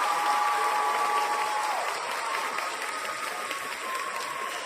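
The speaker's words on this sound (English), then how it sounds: "round of applause for William Henry" An audience gives a sustained round of applause for William Henry at a talk, dense steady clapping filling the room for several seconds, with a faint tonal hum beneath and no speech.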